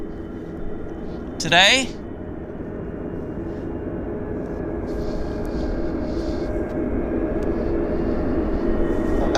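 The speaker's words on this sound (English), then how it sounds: "Cabo flight that's pulling out right now" An airliner pulls out at Vancouver airport for a flight to Cabo San Lucas, a steady engine drone that grows gradually louder beneath a brief spoken word.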